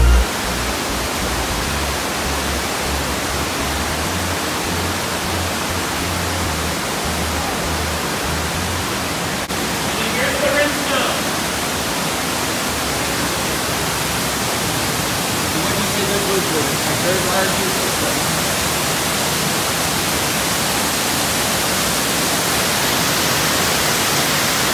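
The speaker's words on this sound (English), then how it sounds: "We could have stood there for hours watching that waterfall." An underground waterfall inside Squire Boone Caverns, an Indiana show cave, roars in a steady, dense rush that fills the whole stretch, with faint murmurs briefly surfacing beneath it.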